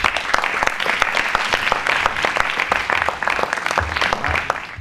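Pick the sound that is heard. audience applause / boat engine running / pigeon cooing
audience applause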